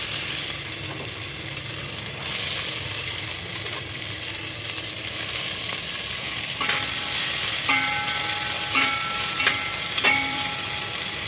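Thinly sliced onions sizzle steadily in a pan, a dense hiss throughout, with a few louder scraping stirs and faint metallic clinks in the second half.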